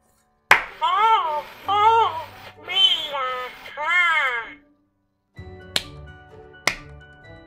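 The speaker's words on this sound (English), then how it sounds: "you clap or make a loud noise 3 times and then you pet him on the back" Two sharp hand claps ring out near and loud after a Furby toy's chirpy, warbling electronic voice sings a short melody, the claps spaced about a second apart in an otherwise quiet room.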